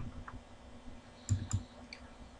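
Someone types on a computer keyboard, pressing tab and enter: quiet, sparse clicks with two sharper key presses near the middle, heard close up and alone.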